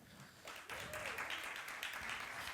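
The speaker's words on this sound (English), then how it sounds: "A round of applause, guys, please." A small audience claps steadily for a couple of seconds, the applause fairly soft and distant, with a faint voice underneath at the start, at a blockchain conference talk.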